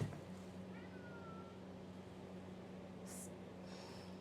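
A cat gives a short, faint meow early on, heard indoors beside a garden area over a steady low hum, with a brief sharp noise near the end.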